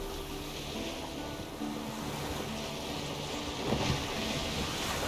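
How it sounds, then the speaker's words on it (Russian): Wind and water wash around a sailboat in The Witcher game, with a steady rustling that could be the sail flapping, constant and fairly loud throughout. "Отклонись немножко от ветра, у тебя парус хлопает."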